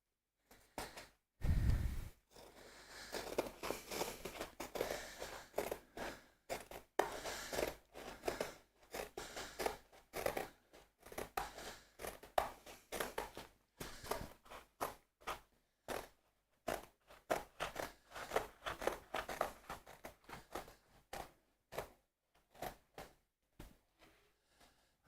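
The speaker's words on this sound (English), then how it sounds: "cut this canvas." Scissors cut through painting canvas in a long series of close, crisp snips and crunches, irregular but steady, alone with a brief low thump near the start.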